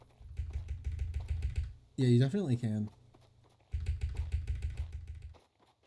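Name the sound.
typing on a new computer keyboard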